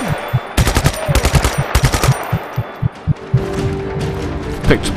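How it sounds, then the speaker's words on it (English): Burst-fire gun shooting in the video game Just Cause 3, several rapid clusters of loud, punchy shots in a steady rhythm followed by a fainter rumbling tail, close and dominant. "Picked up a gun that's got burst fire as well."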